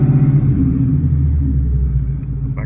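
Ford Mustang S550 race car with a BMR race K-member, engine rumbling low and deep as it is given gas in reverse, a close steady idle-to-rev throb that fades slightly at the end.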